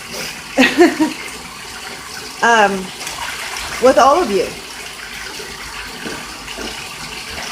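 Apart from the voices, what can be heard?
pet goose splashing water in a bathtub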